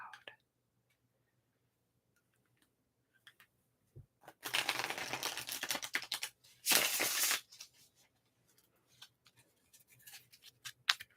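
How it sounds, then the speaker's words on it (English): Tarot cards shuffled close up in two bursts of dense papery riffling and rustling, the second louder, surrounded by near-silence with scattered faint taps and soft handling noises. "I apologize if my shuffling is too loud."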